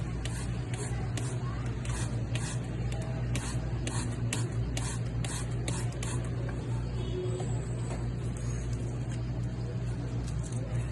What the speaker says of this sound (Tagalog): Maaari rin po tayong gumamit ng spray